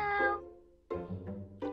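Cartoon cats in the hidden-object game Cats Hidden in Italy give two clear, close meows, one long and falling, then another after a brief pause, with no talking.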